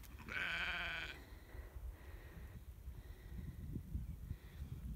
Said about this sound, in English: And then I think that's our lamb there.